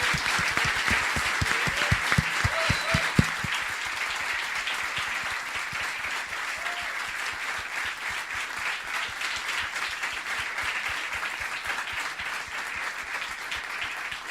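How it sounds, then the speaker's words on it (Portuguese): Sustained applause from a conference panel audience for Dr. Rui Marques, a steady dense clatter of many hands continuing without a break throughout. "mas não tenho dúvidas que foi a maior salva de palmas de todas"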